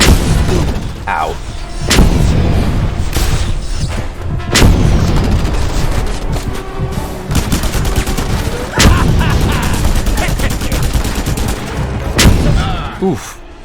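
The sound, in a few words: explosion and gunfire in the video game Just Cause 2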